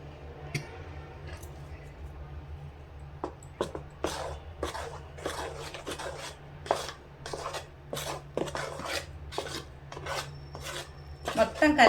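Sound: stirring flour into coconut jaggery syrup for boorelu

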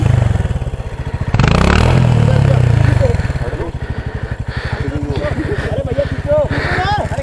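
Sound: motorcycle engine while off-roading

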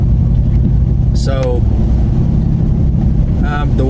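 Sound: Ford F150 5.0 truck driving on E85

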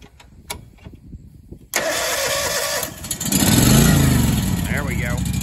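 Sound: engine of new farm machine starting with key

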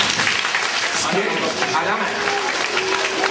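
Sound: audience applause

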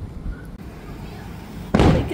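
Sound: fireworks exploding

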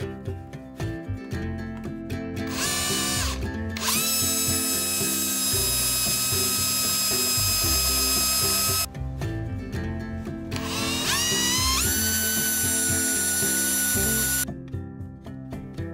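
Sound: drill boring pilot holes into wooden dowel

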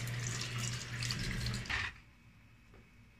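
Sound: water running from a tap

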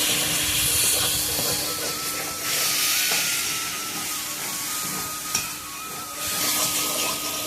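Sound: rohu fish frying in spice paste

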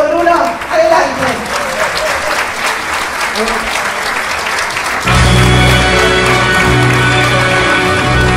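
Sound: audience applause welcoming a singer

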